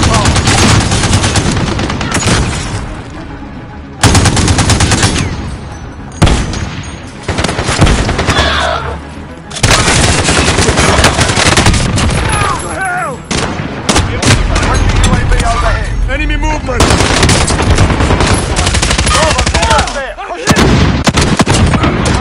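A mounted gun in a military video game fires long, loud bursts of rapid shots, broken by short pauses, with heavy booms and battle noise between the bursts.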